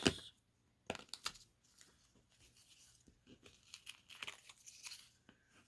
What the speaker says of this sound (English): Then you can pull out all of your paper.